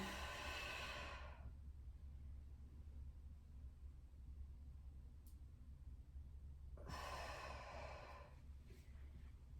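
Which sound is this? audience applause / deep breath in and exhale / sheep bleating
deep breath in and exhale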